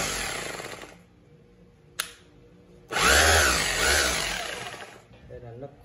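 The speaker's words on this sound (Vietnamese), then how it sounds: "Đây là lớp khoan bê tông này." An electric concrete drill with a speed control and no reverse runs in two bursts, a short whirring spin that winds down, a sharp click, then a louder, longer run before it slows and stops.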